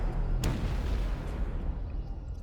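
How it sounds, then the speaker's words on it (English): A deep, rumbling boom from the game 428: Shibuya Scramble, loud as cannon fire, with a sharp crack near the start, followed by a heavy, sustained low roar that slowly settles. "Suddenly a boom as loud as cannon fire shook the area."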